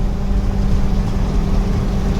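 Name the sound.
1987 K20 Suburban 5.3 LS engine revving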